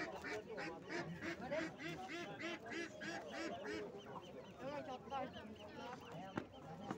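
Ducks and geese quack and honk continuously at a busy poultry market in Nookat, a dense overlapping chorus with market voices mixed in throughout.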